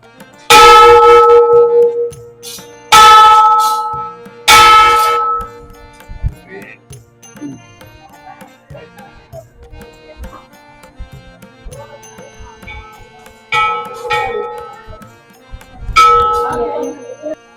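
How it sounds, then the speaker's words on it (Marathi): A temple bell at a Khandoba temple rings out in three loud clangs close together, then a quiet stretch of faint background sounds before two more strikes near the end. "ही घंटा बांधून ठेवली"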